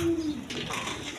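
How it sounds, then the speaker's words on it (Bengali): A pair of red Lahori pigeons gives a brief low coo at the start, followed by soft, muffled rustling and background noise with no voices. "দর্শকবৃন্দ এখানে এক পেয়ার লাহোরি কবুতর আছে"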